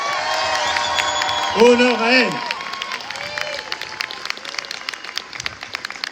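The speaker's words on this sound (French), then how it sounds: "je vous demande bien sûr de leur faire un tonnerre d'applaudissements" An outdoor rally crowd outside a town hall breaks into sustained, dense applause with scattered cheers, while someone speaks loudly over a microphone above the clapping.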